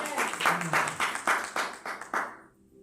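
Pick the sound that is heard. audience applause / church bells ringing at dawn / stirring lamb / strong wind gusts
audience applause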